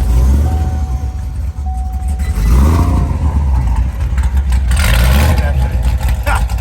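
A car engine with a mech kit revs loudly and deeply, with a rough, freight-train-like roar that swells and falls, while people talk over it.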